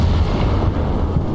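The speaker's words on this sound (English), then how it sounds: "when you hear that big explosion. That typically means they found a radio." A big explosion in the military video game Squad, set off where an enemy radio was found, makes a loud, sustained low rumbling boom that fills the whole moment.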